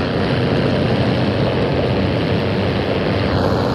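A helicopter in the Call of Duty Warzone video game, a loud continuous rotor and engine roar with a heavy low rumble holding steady throughout, no voices over it.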